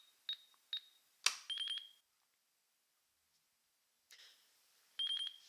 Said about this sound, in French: j'ai un bip qui se répète toutes les 10 secondes pour m'indiquer qu'une vidéo est en train d'être enregistrée